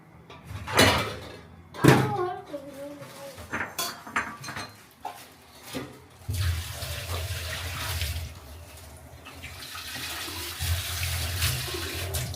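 Tap water runs into a sink while a household water filter is washed, with clattering and handling knocks at first, then a steady close splashing stream that continues to the end.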